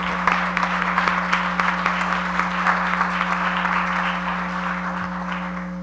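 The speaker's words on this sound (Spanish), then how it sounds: "Fuerte el aplauso." An audience at a book presentation in Mexico applauds the author, the Ecuadorian consul general, with loud, dense, sustained clapping that eases slightly toward the end, over a steady electrical hum from the room's sound system.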